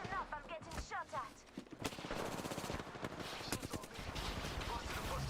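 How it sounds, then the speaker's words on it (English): Rapid bursts of automatic gunfire from a shootout in Apex Legends, loud and dense, with repeated shots crackling throughout and brief electronic game sounds early on. "Listen up, I'm getting shot at."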